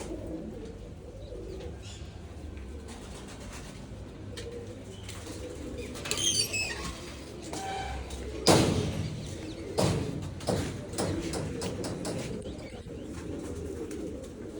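Pigeons of a breeding pair coo softly and steadily in a loft, with a few louder thuds and bumps breaking in midway.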